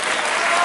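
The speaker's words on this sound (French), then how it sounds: "je vous demande de l'applaudir également" Audience applause at a televised Téléthon charity evening, a dense, steady burst of clapping from a crowd, loud and close with no pauses.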